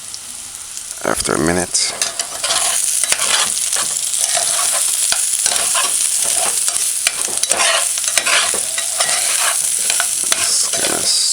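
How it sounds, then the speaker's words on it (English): Veggie chunks stir-frying in a little oil over medium-high heat, with a loud, constant sizzle and repeated stirring scrapes in the pan. A voice speaks briefly near the start. "just kind of stir fry"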